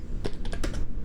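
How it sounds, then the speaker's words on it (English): Rapid keystrokes on a computer keyboard, a quick run of distinct clicks heard up close over a steady low background hum, with no talking. "You just type that in here,"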